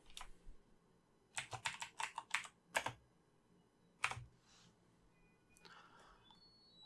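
Someone typing on a computer keyboard in two short bursts of close, crisp key clicks, with quieter gaps between them.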